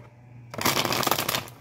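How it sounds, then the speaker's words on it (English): Tarot cards are shuffled by hand in a close, busy riffling burst that starts after a brief quiet moment and continues steadily to the end, with no one talking. "One more shuffle, y'all."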